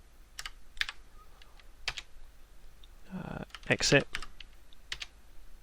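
Typing on a computer keyboard while configuring IP phones in Packet Tracer, a few scattered key clicks and a short burst of keystrokes, with someone speaking briefly.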